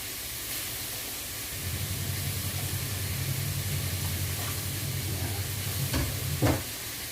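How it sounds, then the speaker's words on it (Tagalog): Shrimp and tomato sautéing in a frying pan, a steady soft sizzle with a low hiss running throughout, and a couple of brief scraping stirs near the end. "Igisa lang natin mabuti."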